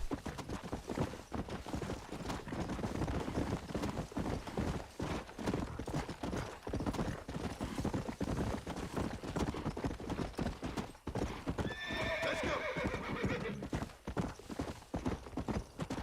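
A horse in the video game Red Dead Redemption gallops with steady, loud clip-clop hoofbeats throughout, and a short neigh comes near the end.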